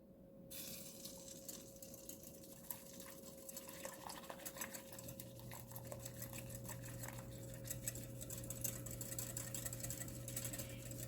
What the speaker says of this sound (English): And I'm whisking it fast because I don't want, I want to cool it.